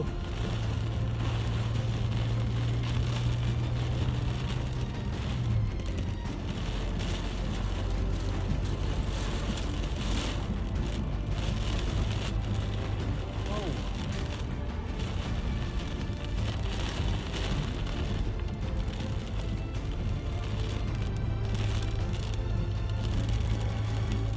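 Heavy rain from a storm in Lamphun drums steadily on a moving car as it drives, a dense continuous hiss over low road and engine rumble, with no break.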